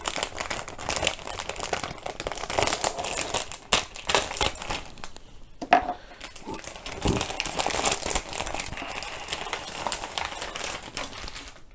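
Plastic packaging of a Gunpla model kit, a Customize Scene Base City Area version, is opened, giving continuous close crinkling, rustling and crackling of bags and wrappers with brief pauses.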